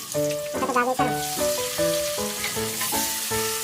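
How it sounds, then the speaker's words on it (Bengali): Potatoes fry in leftover fish-frying oil, a steady close sizzle with a hissing wash under a louder tonal sound that rises and falls. "এবার আমি মাছ ভাজার যে তেলটা ছিল সেই তেলটাতেই আমি আলুগুলো দিয়ে দিলাম।"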